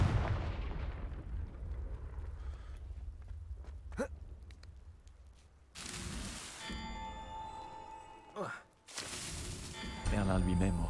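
Confringo fire spells blasting in the video game Hogwarts Legacy, several booming explosive bursts with crackling debris over steady game ambience and music.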